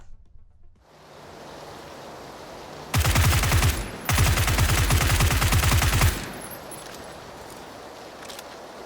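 Automatic gunfire in the video game PUBG rattles in two loud, rapid bursts, each lasting about a second or more, over a steady background hiss.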